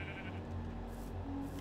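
Sheep in the Minecraft video game bleat close by, with a couple of short, wavering calls over a quiet outdoor background and no speech.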